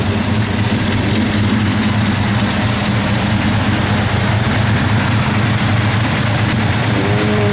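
The blower motor of a 1971 Plymouth Road Runner runs as a loud, steady whir with a constant low hum. It holds unchanged throughout with no talking.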